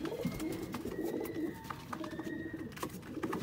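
Sialkoti pigeons coo repeatedly in soft, rolling bursts close by, several overlapping throaty calls with brief pauses between them and no voices.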